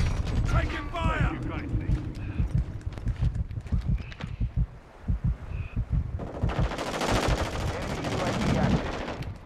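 Bursts of rapid gunfire from a multiplayer video game battle, mixed with game effects and clattering, while players talk over the fighting.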